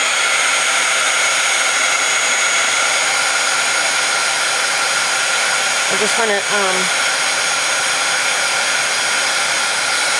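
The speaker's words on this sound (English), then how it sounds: "I'm gonna have to dry this with the heat tool. I have the heat tool here, so it's gonna get loud." Heat tool blowing steadily to dry distress paint and set ink, a loud continuous airy roar from start to end, with a brief spoken phrase partly masked underneath.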